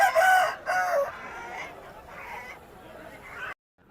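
A rooster crows loudly and close at a poultry market, then gives a few more drawn-out calls before the sound cuts off abruptly.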